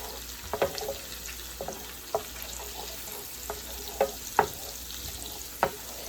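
Chopped onions fry in a pan for a lemon garlic honey salmon and shrimp dish, giving a steady low sizzle broken by a few soft knocks and stirring scrapes of a utensil.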